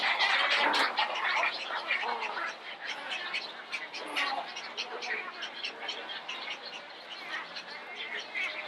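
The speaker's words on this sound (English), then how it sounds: "a lot of the birds are right here and they're nesting right here" Nesting birds at an alligator farm rookery call in a busy chorus of squawks and chirps close by, dense and overlapping throughout, with a person talking over them.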